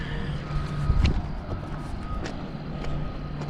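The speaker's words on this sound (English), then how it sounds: "all those lights are a bunch of trucks." Trucks at night near railway tracks: a low engine rumble with faint reversing beeps and a brief hiss of air brakes, heard from a distance.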